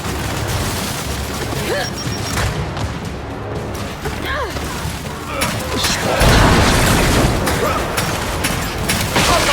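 Grenade explosions in the video game Gears 5, loud booming blasts mixed with dense gunfire and mechanical clatter, sustained and heavy, with shouted voices over the chaos.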